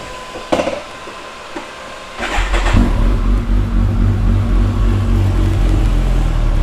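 A Kawasaki motorcycle, a ZX14R or H2 SX, rides off: a few clicks and knocks, then the engine rises into a loud, close, rumbling run that holds steady.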